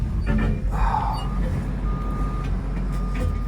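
A wrecker tow truck backing up at the Mid-Ohio race track gives a steady high reversing beep, repeating in a few long tones over a constant low engine rumble.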